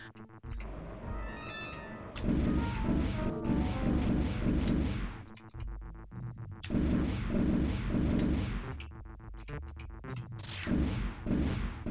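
Spaceship weapons firing in the space combat game Wing Commander Privateer, a steady run of rapid blasts with short pauses, loud and close over engine hum and game sound, with no talking.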